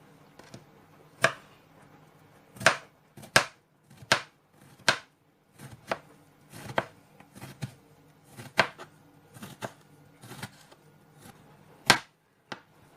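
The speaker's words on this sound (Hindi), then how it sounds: "इसको ऐसे छोटे छोटे पीसेस में ना बारीक बारीक काट लेना है।" A knife chops an aubergine into small pieces on a board, sharp distinct strikes coming in irregular bursts, close and clear, with quiet gaps between them.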